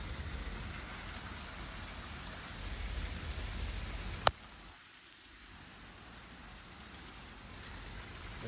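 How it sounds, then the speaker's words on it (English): Rain falls steadily outside a house during a flood and tornado watch, a soft continuous patter broken by a single sharp click before it quiets slightly. "It's raining again."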